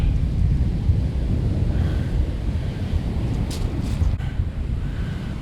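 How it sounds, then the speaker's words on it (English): Strong wind buffeting a microphone with a furry windshield on a blustery beach, with waves surging underneath; a continuous, loud low roar that barely lets up, with no voices. "It's very blowy today."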